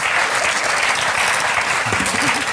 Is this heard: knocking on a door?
no